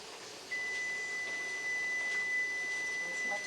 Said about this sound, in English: That's my timer here.